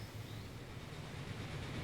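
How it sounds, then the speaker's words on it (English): A train rolls past in the railway-building game Transport Fever 2, a steady, even rumble with low hum and broad hiss holding at one level for about two seconds, with no voices. "There goes a train."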